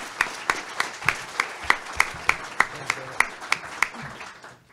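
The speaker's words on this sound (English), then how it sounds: "so I think we should give them a round of applause." Rhythmic clapping at a symposium panel: a dozen or so sharp, evenly spaced claps in a steady beat, fairly close, with a faint murmur under them, tapering off at the end.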